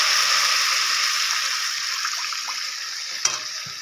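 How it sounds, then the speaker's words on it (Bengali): Spice paste frying in a pan for a mustard fish curry just after water is poured in, a steady bright hiss and sizzle that fades slowly, with a sharp clink near the end. "এবার আমি এতে পরিমাণ মতো মশলা বাটা জলটা দিয়ে দিলাম"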